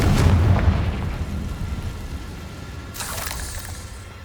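The Confringo fire spell in Hogwarts Legacy erupts as a heavy, booming burst at the start and fades into a rumbling tail. A second, sharper crackling burst follows a few seconds later.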